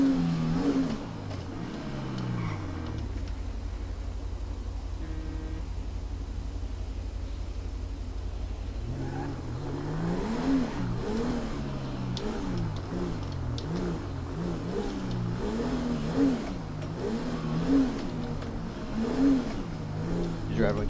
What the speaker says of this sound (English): That car behind us sound like shit.